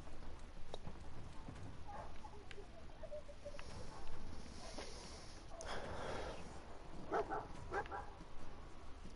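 A dog companion in a PS4 video game gives a few short barks partway through, moderately near, over steady game ambience with light footstep-like clopping.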